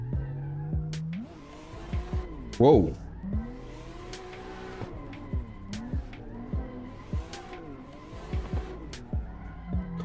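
A turbocharged race car spins out in a racing video game, engine pitch swooping and a sharp tire squeal rising mid-clip, with a man exclaiming over the steady engine drone.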